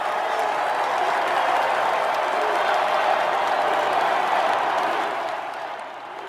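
A huge stadium crowd of around 100,000 at a football game in Alabama roars and applauds for Donald Trump, a dense, continuous wall of cheering that eases slightly near the end.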